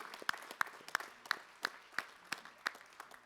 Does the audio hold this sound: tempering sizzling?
no